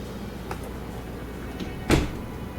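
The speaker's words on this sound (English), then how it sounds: "I shouldn't have to close my bedroom door" A bedroom door closes with a single soft thud in the video game Trails through Daybreak, preceded by faint light clicks over a quiet background.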